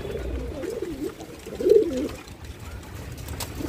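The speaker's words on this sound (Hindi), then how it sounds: "चल भाई छोटू का डिमांड है तो उड़ाते हैं अब कबूतर।" Wild pigeons coo in soft, warbling rolls, close by, with one louder throaty coo in the middle against faint background noise.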